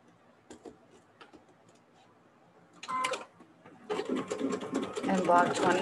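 A sewing machine stitching quilt block seams starts with a brief burst, then runs in a sustained, rapid whirring stretch, close and fairly loud, after a person speaking.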